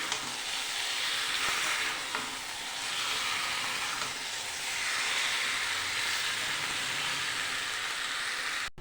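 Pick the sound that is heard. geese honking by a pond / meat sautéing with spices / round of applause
meat sautéing with spices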